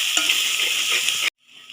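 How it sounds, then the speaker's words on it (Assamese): Cumin and chilli powder frying in oil for a rajma curry, a loud, close, continuous sizzle with light stirring scrapes that cuts off abruptly, leaving a faint, quieter sizzle. "এতিয়া ভালদৰে ভাজি ল'ম"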